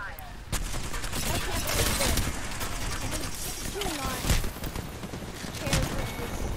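Gunfire in the Apex Legends video game rattles out in several sharp bursts and single cracks over a busy background of game noise.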